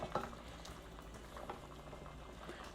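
Milk heating in a pan over a gas flame for Alfredo sauce, a quiet, steady simmering bubble with soft pops and small ticks, heard close and faint.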